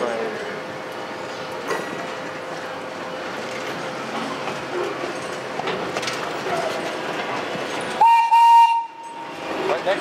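A train on the Midland Railway rumbles past close by with a broad, steady roar and rattling, then a loud whistle-like tone sounds briefly near the end.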